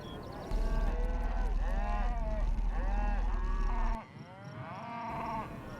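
Cattle being moved by a four-wheeler on a ranch low in several long, rising and falling moos in a row, close and loud over a steady engine drone that drops away near the end.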